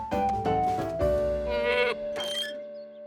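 A goat bleats in a cartoon in a few loud, wavering cries heard close up, with no talking over them.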